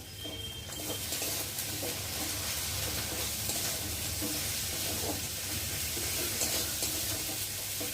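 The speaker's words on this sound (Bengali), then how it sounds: "মশলাটা একটু ভালো করে ভেজে নেব" Spices, including chilli powder, sizzle and crackle in hot oil with a steady hiss, occasional stirring scrapes and soft pops; no one speaks.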